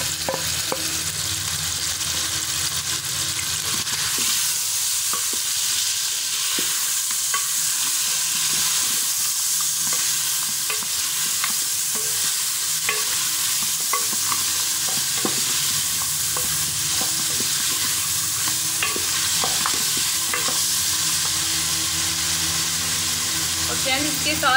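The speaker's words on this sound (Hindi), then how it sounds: "अब जो है हम इसमें अदरक और लहसुन का पेस्ट ऐड करेंगे, और साथ ही हम इसमें 1 टीस्पून जो है वो नमक ऐड करेंगे।" Ginger-garlic paste and salt sizzling with meat in a hot pan for salted Peshawari gosht, a loud, continuous frying hiss with steady stirring scrapes throughout.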